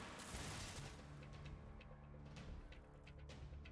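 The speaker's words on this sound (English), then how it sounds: "heard gunfire" Rapid bursts of gunfire in the video game Cepheus Protocol crackle in quick succession, sharp repeated shots over a busy mechanical background, fairly quiet overall.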